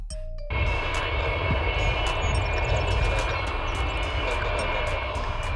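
Engines of the Antonov An-225 Mriya, the largest aircraft ever built, a loud steady jet roar that starts abruptly and holds without a break.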